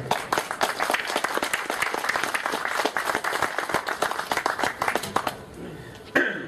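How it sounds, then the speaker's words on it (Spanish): At an economics forum in Peru, the audience gives a strong round of applause as a doctor is introduced, a thick and continuous clapping crowd that fades near the end just as a voice begins. "quiero que le den un fuerte aplauso al doctor Hernán Garrido Leca"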